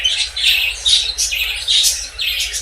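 Doves and king quails released into a ground-level aviary colony call in repeated bursts of chirps and tweets, fairly close and steady, with no voices.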